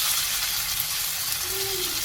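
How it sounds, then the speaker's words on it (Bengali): Potatoes frying in a pan with spices, unfried before going in, give a steady broadband sizzle and hiss that runs evenly throughout, close and continuous with no talk. "আলুগুলো আমি ভাজিনি, মশলার সাথেই আলুটা ভালো করে একটু কষিয়ে নেব।"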